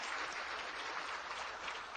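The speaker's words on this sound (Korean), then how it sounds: "박수! 박수 한번 세워보자." A church audience applauds during a sermon, a dense and fairly faint patter of many hands clapping continuously for a couple of seconds, heard alone without talk.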